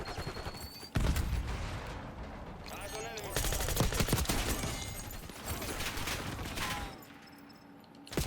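Rapid bursts of KSV submachine gun fire in Black Ops 6 gameplay, with loud automatic volleys broken by short pauses and mechanical clicks, and a voice heard faintly underneath.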